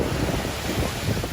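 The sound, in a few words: ocean waves breaking on the beach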